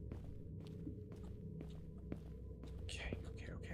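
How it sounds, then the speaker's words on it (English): Footsteps in a horror video game, a quiet run of soft, irregular steps and thuds under low whispery game ambience, with a few brighter scuffs near the end. "I hear footsteps."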